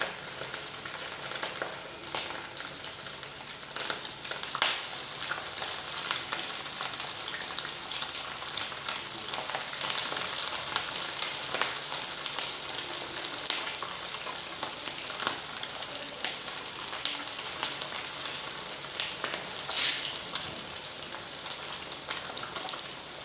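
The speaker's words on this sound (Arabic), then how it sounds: "من بعد ما سخن لينا الزيت غادي نبداو دابا نحطو فيه" Sardines fry in hot oil in a pan, a steady close crackling sizzle with scattered sharper pops, continuous and without talk.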